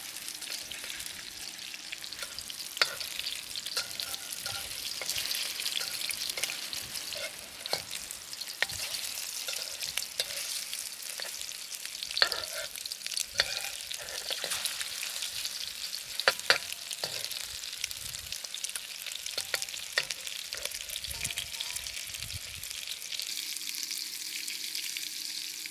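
Cod fillets sizzle and spit steadily in a frying pan for the whole stretch, with scattered crackles and a few brief clicks of handling, no talking over it.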